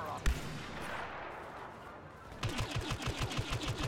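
Rapid gunfire from a blaster in the Star Wars Battlefront 2 video game, starting after a single early shot and a stretch of background battle noise, then a steady burst of evenly spaced, fairly loud shots.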